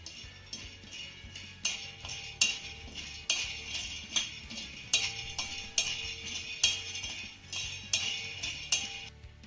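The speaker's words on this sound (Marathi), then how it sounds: "आता हे शेंगदाणे आपल्याला चांगले खरपूस भाजून घ्यायचे आहेत" Half a cup of peanuts dry-roasting in an iron pan, giving a steady run of light clinks and rattles as they are tossed, with sharper spoon taps every second or so, close and moderate.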